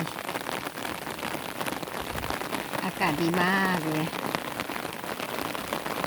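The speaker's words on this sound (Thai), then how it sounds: "คลิปฝนตกมาฝากเพื่อนๆ" Steady rain patters down on a window, with a short burst of a voice speaking over it partway through.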